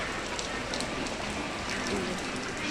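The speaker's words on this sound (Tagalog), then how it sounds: "O, tignan nyo, umuulan sa labas." Steady rain falls outside, a dense continuous hiss of drops on surfaces that stays even and fairly loud throughout, with no voices over it.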